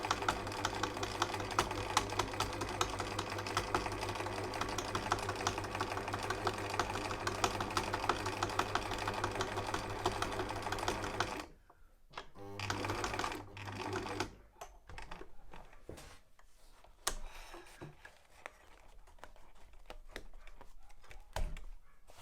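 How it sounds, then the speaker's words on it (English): Husqvarna 2000 domestic sewing machine stitching a pocket onto jeans, a steady close rapid mechanical whir for about eleven seconds, then stopping and restarting in shorter bursts with pauses. "Here we are, sewing a pocket onto a set of jeans."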